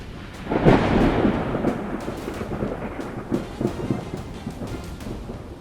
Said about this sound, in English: Can you hear the thunder shaking the air around you?